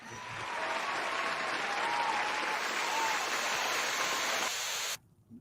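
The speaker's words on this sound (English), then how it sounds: "Let's give him a round of applause and welcome him on." Studio audience applause welcoming a guest onto a talk show, a dense, steady clatter of many hands clapping at full strength for about five seconds, then stopping abruptly.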